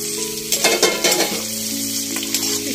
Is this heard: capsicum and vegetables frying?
yes